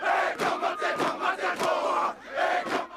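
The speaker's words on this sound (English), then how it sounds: "This is the haka," High school football players in Texas perform a Maori haka war dance chant, a fierce ancient ritual. Loud, rhythmic group shouts rise in forceful bursts, with a roaring crowd-like mass of voices and no separate talking.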